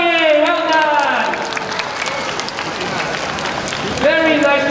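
Crowd clapping and cheering at a Pokémon mascot appearance featuring Sprigatito, Fuecoco, Quaxly and Pikachu in Paradigm Mall, a dense steady patter of many hands, with a loud voice talking over the start and end.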